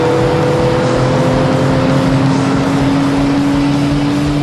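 A Porsche GT3 at speed on a racetrack gives a loud, close, sustained engine roar with steady pitched drone tones that shift slightly as it runs hard, with no voices.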